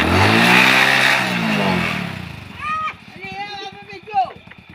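A motorcycle engine revs up loudly close by, then fades as several people talk and call out over it.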